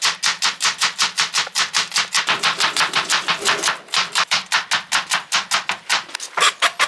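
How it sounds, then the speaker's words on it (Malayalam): Onions being finely chopped with a knife on a board for Kerala-style ullivada, a fast, steady run of sharp, close knife taps lasting throughout with no voices. "നമ്മൾ ഈ സവോള അരിയുമ്പോൾ വളരെ തിന്നായിട്ട് തന്നെ അരിഞ്ഞെടുക്കണം കേട്ടോ."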